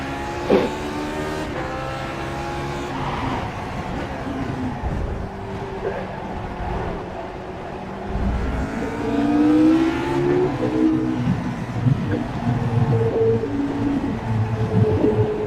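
A race car at the Road America circuit cycles through braking and acceleration, its engine note dropping then climbing in repeated surges, loud and close with no talk over it.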